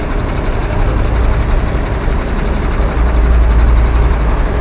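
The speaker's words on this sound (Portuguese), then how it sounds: "Vou mostrar para você o helicóptero de resgate da Polícia Militar que está por aqui, olha." A Military Police rescue helicopter at a highway crash scene gives a steady, loud low-frequency engine and rotor drone that continues without a break for the whole span, with no voices.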